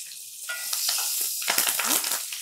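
Curry leaves and green chillies hitting hot oil for pulihora, a short burst of bright crackling sizzle that flares up near the end.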